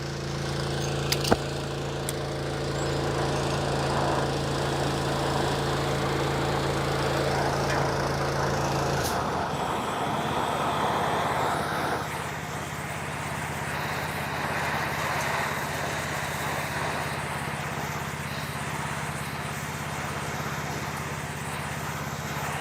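A gas torch roars steadily while heating bolts on a Ford 201 engine being taken apart, a continuous close hiss with an engine-like hum that drops away partway, leaving a lighter, airier flame noise.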